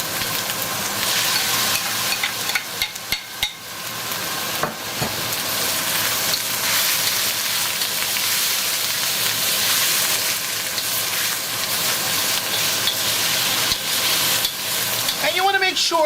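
Chicken frying in a pan with onion and garlic for Surinamese chow mein, a loud, dense, steady sizzle punctuated by scraping stirs and a few clinks, close up and continuous throughout.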